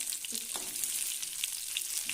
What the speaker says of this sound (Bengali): এইভাবে দেখুন ভাজা হচ্ছে।